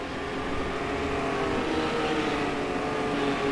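Super Rods race cars on the home straight at Ipswich oval, a steady, fairly distant engine roar from several cars blending into one continuous drone.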